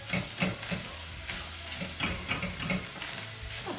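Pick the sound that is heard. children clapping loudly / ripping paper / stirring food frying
stirring food frying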